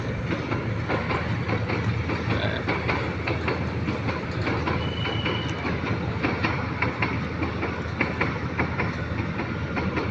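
A train rumbles steadily past beside a jute depot with a continuous clattering rattle of wheels on rails, close by and unbroken for the whole stretch, with no voices.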